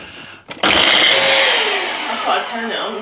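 Kitchen blender whirring through a thick shake, starting abruptly after a short pause and holding a loud, steady motor whine whose pitch shifts slightly as it churns.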